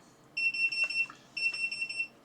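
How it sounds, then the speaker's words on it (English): An air quality alarm sounds two bursts of rapid, shrill electronic beeps about a second apart, clear and fairly close in a quiet room where someone is soldering. "That beeping was my air quality alarm."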